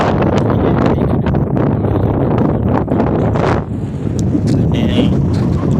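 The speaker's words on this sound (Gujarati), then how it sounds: "મસ્ત મજાનો ઠંડો પવન આવે છે" Steady, loud cool wind buffeting the microphone at Gayatri Ashram, Gadhethad, a broad constant roar with gusty swells throughout, with faint voices now and then.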